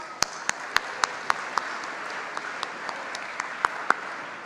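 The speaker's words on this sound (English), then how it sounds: "Give yourselves a round of applause" Scattered hand claps from a first-year student gathering ring out individually over a thin background hum, sharp isolated claps spaced irregularly rather than a full ovation, fairly close.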